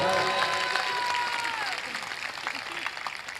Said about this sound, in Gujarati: વધાવો તાળીઓથી વધાવો